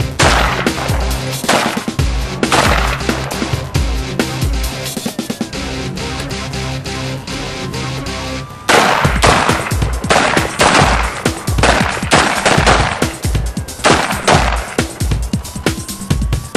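Dense, rapid gunfire at a police firearms training range, shots cracking in quick bursts and continuous volleys, loud and close, with no talk over it.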